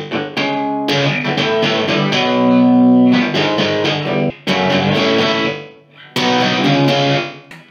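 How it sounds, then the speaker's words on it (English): Electric guitar played through a delay pedal with the feedback turned up high, giving a spring-reverb, oil-can style effect: phrases of notes that ring out and smear into repeating echoes, with short gaps between bursts and no voice. "if you lower that and add a load of feedback, you can get that sort of spring reverb"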